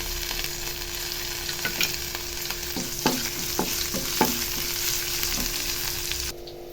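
Onions and curry leaves fry in a pan for Chettinad chicken kola urundai, a steady sizzle broken by several sharp stirring scrapes and clatters, close up, before the sound drops away at the end.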